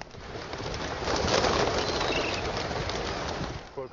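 Pigeons coo steadily in a dense, continuous wash of bird sound, close and fairly loud throughout with a faint rustle underneath.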